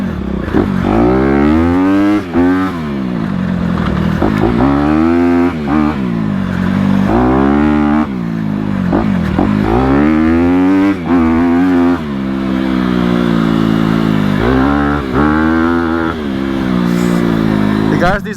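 A 2020 Honda CRF250RX dirt bike ridden hard, its engine revving loudly up and down in repeated rising and falling sweeps, close and continuous under the rider's talk.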